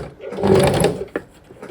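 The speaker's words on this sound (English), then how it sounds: "I'm just edge stitching these covers now" Sewing machine running a short burst while edge stitching fabric needlebook covers, a steady mechanical whir that swells and stops, followed by a single small clack, close and fairly loud with no talking.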